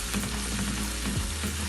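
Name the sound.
onions and garlic-ginger paste browning in a pan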